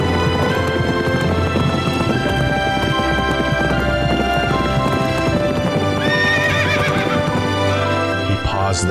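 A horse neighs loudly over steady, rhythmic hoof clip-clop at a gallop, with a further whinny near the end and a faint voice underneath.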